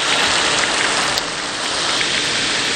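Heavy monsoon rain pours in a dense, even hiss, loud and close, steady throughout with no voices.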